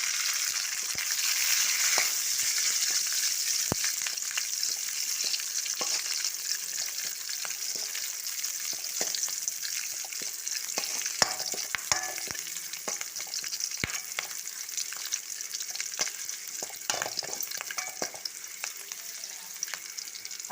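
Green chillies dropped into hot oil for a mutton curry crackle and sizzle loudly and steadily throughout, with frequent sharp spitting pops and occasional stirring clicks close by.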